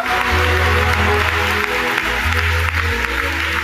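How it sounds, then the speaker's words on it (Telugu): An audience claps hands in loud, dense, sustained applause at a church gathering, with a low hum running underneath. "కొట్టు చప్పట్లో కొట్టు"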